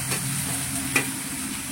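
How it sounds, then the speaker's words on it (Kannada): Onions fry in hot oil in a pan, giving a steady, close sizzle broken by a couple of brief stirring scrapes, with no talking. "ಈರುಳ್ಳಿ ಚೆನ್ನಾಗಿ ಫ್ರೈ ಆಗಬೇಕು."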